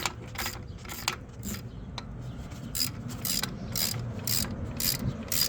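A hand ratchet tightens a transmission bolt on a K-Series car, giving repeated bursts of fast pawl clicking in a steady back-and-forth rhythm, close and clear over low workshop rumble.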